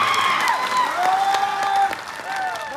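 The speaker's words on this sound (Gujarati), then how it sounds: "એમના માટે એકવાર તાળીઓના ગણગણાટથી હું સ્વાગત કરું" A crowd at a political rally in Sankheda applauds to welcome a local MLA, steady clapping filling the space with whistles and cheers over it, loud and continuous.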